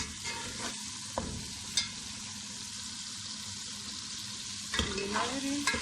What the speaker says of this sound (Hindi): थोड़ी देर टमाटर गलने तक पकाएंगे।